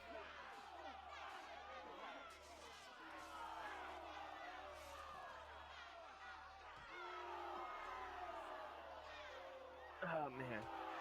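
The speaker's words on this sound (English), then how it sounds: "I like the crowd that's just cheering" A crowd in the Italian setting of Assassin's Creed: Brotherhood cheers and shouts, a steady, faint background roar with occasional whoops beneath a person talking throughout.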